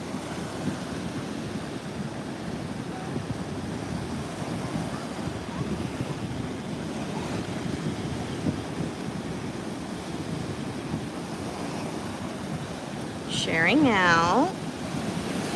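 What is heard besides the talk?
ocean waves on a beach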